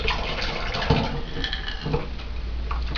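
Water gushes from a tap into a container in a steady, even rush lasting throughout, close and fairly loud with no voices.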